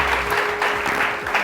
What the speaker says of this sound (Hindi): अंबर के लिए बहुत सारी तालियां दी।